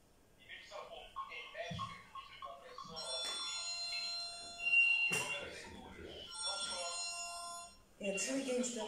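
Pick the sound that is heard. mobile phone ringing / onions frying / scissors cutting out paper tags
mobile phone ringing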